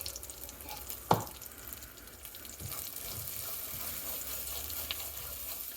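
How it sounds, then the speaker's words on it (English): A tomato and onion paste for paneer makhani cooks in oil in a pan with a soft continuous sizzle and faint bubbling. One sharp clink rings out early, and there is no talking. "We're going to cook this paste for 5 to 10 minutes."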